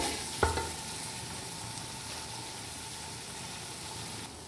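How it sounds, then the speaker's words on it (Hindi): Whole spices roast in a pan for chicken shorba. One clack early on, then a faint, even frying hiss continues without speech. "दो मिनट हो गए इस तरह मुझे इसके अंदर ये साबुत मसाले डाल के भूनते हुए।"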